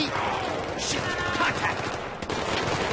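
Rapid gunfire from Battlefield 3 crackles through a busy, noisy game mix, sustained and fairly loud for the whole stretch, with a sharp burst near the end and voices chattering underneath.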